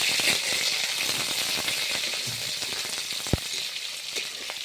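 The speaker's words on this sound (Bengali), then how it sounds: "তেল গরম হয়ে গেছে, তেলে ফোড়ন দিয়ে দিচ্ছি তেজপাতা আর জিরে, এখন কাঁচা লঙ্কা, পেঁয়াজ কুচি আর সামান্য একটু ক্যাপসিকাম" Bay leaf, cumin, green chillies, chopped onion and capsicum frying in hot oil, a loud continuous sizzle with crackling and a sharp utensil knock near the end, no talking.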